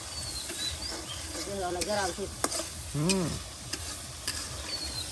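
A spice paste of ground onion, ginger, garlic and cumin sizzles in a pan while being stirred, giving a soft continuous fry broken by scraping strokes and a few sharp clicks, with someone talking over it.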